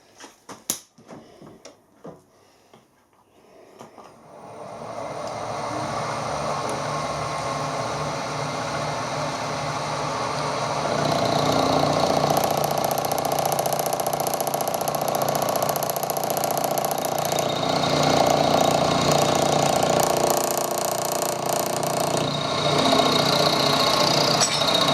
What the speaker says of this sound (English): I've got a carbide cutter in now, and I'm just going to try and get the other angle in the tooth